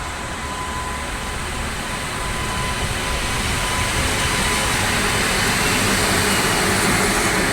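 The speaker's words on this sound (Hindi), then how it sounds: "ट्रेन आ रही है" A train approaches in Bihar, India, with a broad, steady rumble and rushing noise that slowly grows louder, continuous and close, with no talking.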